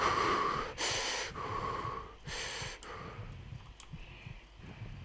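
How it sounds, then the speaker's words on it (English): A soldier in the Arma: Cold War Assault video game breathes heavily and fast, with loud, rapid gasping breaths repeating close up and alone. "Why is he breathing so fast, man?"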